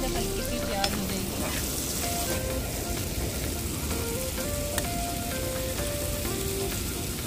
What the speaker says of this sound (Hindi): ये जा रही है इसमें सबसे पहले प्याज